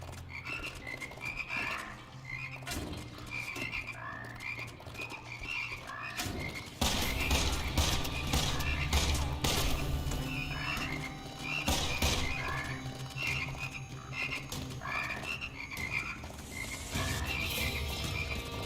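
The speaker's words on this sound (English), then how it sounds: "Is that frogs? Do I hear frogs?" Frogs croak continuously in a chorus on a summer night, loud and close, with repeated rhythmic calls overlapping throughout and the chorus growing denser partway through.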